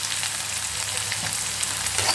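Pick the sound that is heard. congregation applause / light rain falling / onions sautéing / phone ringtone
onions sautéing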